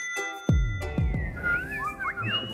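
A person whistles a bright, sliding tune on a French TV antiques show, starting after a few heavy thumps and carrying on clearly over low background noise.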